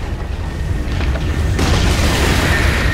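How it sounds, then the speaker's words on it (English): A tower crumbling in a Dota 2 match between Newbee and Team Serenity at ESL One Hamburg 2018 sets off a loud, sustained booming rumble that swells into a heavier blast about halfway through. "Radiant's middle tower has fallen."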